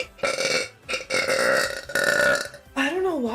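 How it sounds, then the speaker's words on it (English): Loud, drawn-out burps from a streamer, several rough belches in quick succession with brief gaps, ending in a wavering voiced tail, close to the microphone. "I don't know why I'm burping like it's fucking like bubble wrap."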